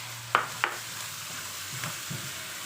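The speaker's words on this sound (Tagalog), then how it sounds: "Gisa lang natin." String beans (sitaw) are sautéed in a pan for pinakbet, with two sharp utensil scrapes near the start over a low, steady sizzle, then softer stirring sounds later.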